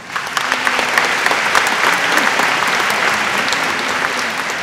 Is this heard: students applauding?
yes